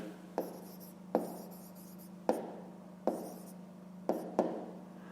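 Handwriting on paper while working a fifth-grade math exercise: six short scratchy pen strokes spaced about a second apart, close and quiet over a faint steady hum.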